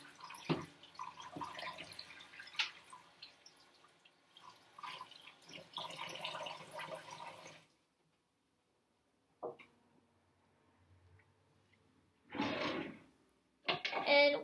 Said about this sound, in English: I'm gonna rinse these off in the sink.